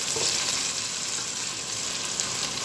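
Fried rice being stirred in a pan as pepper sizzles, a steady close frying hiss throughout with faint scraping of the stir, no voices.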